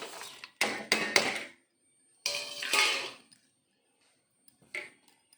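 Vada batter being mixed with green chilli, ginger, cumin and curry leaves, giving a few short bursts of wet slapping and scraping against a vessel, with quiet gaps between them.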